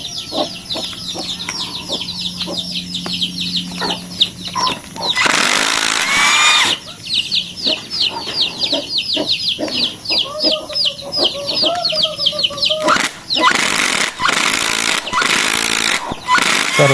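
A Dongcheng (DC) cordless impact driver drives screws into hardwood, with several loud rattling hammering bursts between quieter stretches, close up, against persistent background chirping and clucking.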